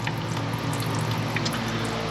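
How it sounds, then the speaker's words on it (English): Sludgy, water-like gunk draining from a biodiesel setup, a steady loud close pouring and gurgling flow with faint drips throughout. "Very sludgy and water-like gunk coming out of there."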